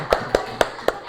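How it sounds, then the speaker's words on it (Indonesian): Four sharp claps spaced evenly about a quarter second apart, crisp and fairly close, with no talking. "Tepuk tangan untuk kita semua."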